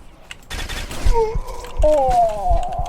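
Gunfire in a first-person shooter video game, including a pump shotgun, as a few sharp close shots mixed with other game sounds and effects.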